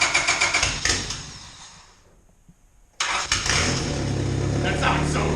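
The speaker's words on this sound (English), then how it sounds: "See, and it backfires out of the intake." A Honda D16Y7 engine cranks and catches with rough sputtering, dies into near silence, then starts again with a sudden loud pop from the intake and settles into a steady running roar.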